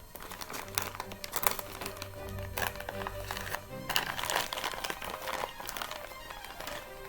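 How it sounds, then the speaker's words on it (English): Plastic packaging bag being cut open with careful, uneven crinkling and rustling close to the mic, bursts of crackle and scraping spread across several seconds. "I don't want to cut what's inside here."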